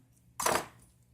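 A single crisp snip of a rosemary stem being cut for a propagation cutting, one short close-up click-and-rustle burst with no talking.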